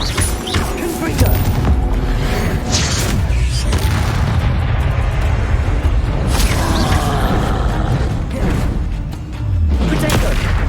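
Fire spell blasts in the Hogwarts Legacy video game, a dense run of loud booming bursts and crackling impacts piling over one another with game music and voices, continuous and heavy throughout.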